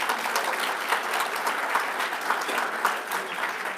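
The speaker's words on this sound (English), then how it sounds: "Another round of applause for Comrex for helping us out today." Sustained applause from a luncheon crowd at an awards ceremony, many hands clapping in a dense, uniform patter that holds steady throughout, with no speech heard.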